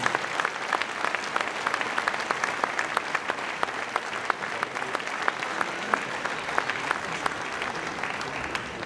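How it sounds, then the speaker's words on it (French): A crowd at a town hall New Year's greetings evening in Bessan applauds the municipal team, with steady, dense clapping sustained throughout at moderate loudness. "Je voudrais que vous les applaudissiez grandement parce que je ne suis pas seul à la mairie de Bessan."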